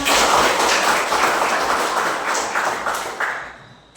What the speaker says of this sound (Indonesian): beri tepuk tangan buat Lona